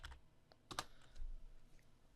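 Typing on a computer keyboard, a few quick close clicks in short bursts followed by a single softer tap, faint and with no talking.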